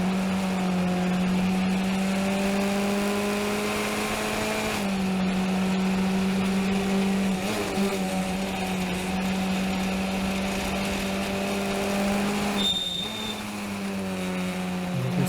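A race car engine during a circuit race, heard from on board as a loud, steady droning whine that holds pitch, briefly dips and shifts twice as gears change, then climbs again.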